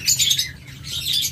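Pet lovebirds and budgerigars kept in breeding pairs chirp and twitter in a quick, overlapping high-pitched chatter, moderately close, over a low steady background hum.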